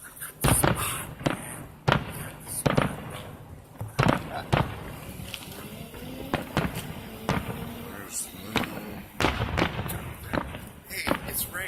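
Fourth of July fireworks explode in a string of sharp booms and cracks, some near and some farther off, spaced irregularly with crackling in between, while people chat nearby.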